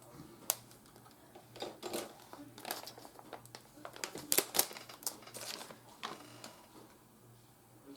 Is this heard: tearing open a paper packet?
yes